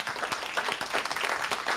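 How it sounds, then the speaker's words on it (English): Audience applause at a Python programming meetup in Brighton, a short steady burst of many hands clapping together after a talk, fairly close and continuous with no pauses. "If we could please have another massive round of applause for Sylvia."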